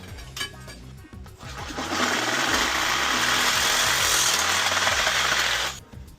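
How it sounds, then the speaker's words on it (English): A Sawzall reciprocating saw cuts pipe during a combi boiler installation, giving a loud, harsh buzzing run of about four seconds after a few short starts, with no talking. "Give me that Sawzall, please."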